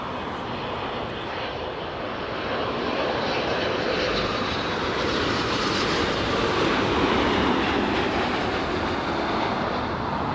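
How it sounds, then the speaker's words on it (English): A United Airlines Boeing 787-9 Dreamliner lands at LAX, and its jet engines give a broad, steady roar that swells slightly as it passes, heard from a distance outdoors with no voices. "It's a 787-9 Dreamliner coming in from Newark, flight 1321."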